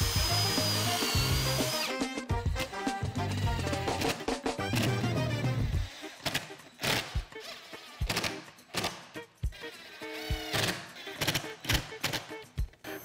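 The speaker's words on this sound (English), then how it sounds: "Assemble the front frame using glue and pocket screws." Power drill driving pocket screws into a glued wooden frame for a faux window, with bursts of whirring and sharp clatters repeating through the clip, loud and close.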